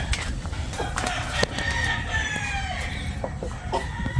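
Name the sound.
chickens clucking and a rooster crowing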